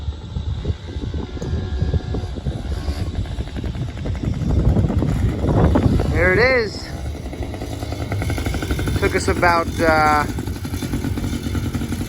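A Yamaha PW50 dirt bike engine, running without its silencer baffle, revs up and down nearby with a buzzy rattle while people talk over it.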